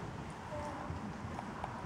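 A horse trots steadily on the lunge, its hoofbeats a faint, even clip-clop under a soft background hiss, with no talking.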